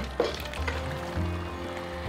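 Ground cashews are stirred into thick black halwa in a pan, giving a soft low scraping and bubbling under a steady hum, with a sharp click near the start.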